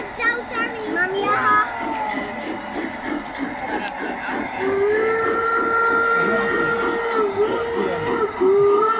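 A garden railway train gives a long steady whistle over the rumble of moving cars, with voices of people and children talking throughout.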